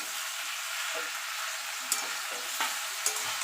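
Eggplant and slit green chillies fry with vegetables for a spinach curry, a continuous close sizzle with a few soft scraping stirs and light clicks of the spatula, no voices.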